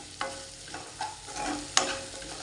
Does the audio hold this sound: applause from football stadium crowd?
no